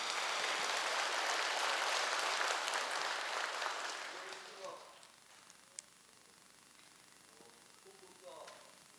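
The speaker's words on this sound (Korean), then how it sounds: "큰 박수로 맞이해 주시기 바랍니다." Audience applause during a Buddha's Birthday service at a Buddhist temple hall, a dense loud wash of clapping for about four seconds that fades out, followed by quieter room sounds with a few scattered claps.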